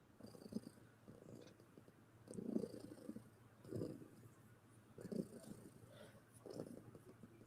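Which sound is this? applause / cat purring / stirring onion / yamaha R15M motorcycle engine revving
cat purring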